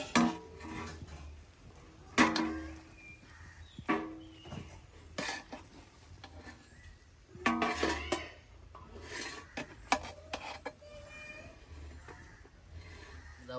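Chicken being served, with intermittent clinks and clatters of dishes, pots and cutlery at moderate volume, scattered knocks and scrapes separated by quieter gaps.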